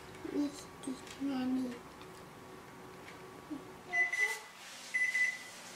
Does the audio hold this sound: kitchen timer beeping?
yes